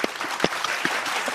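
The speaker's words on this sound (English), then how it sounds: "a virtual round of applause" A short burst of scattered hand clapping from a small group, with a few sharper individual claps standing out.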